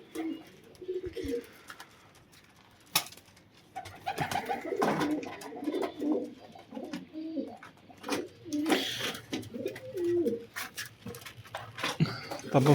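Red-eyed Yakrim pigeons coo in soft repeated rounds close by, their calls overlapping, with occasional wing flutters and patters.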